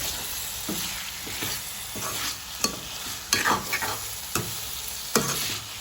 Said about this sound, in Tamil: வடிவாக மிக்ஸ் பண்ணுவோம்